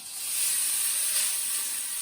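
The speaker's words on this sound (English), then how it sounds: "You hear it sizzle." Noodles hit a hot pan for chicken chow mein, giving a steady, bright sizzling hiss that holds at an even level throughout, close and alone.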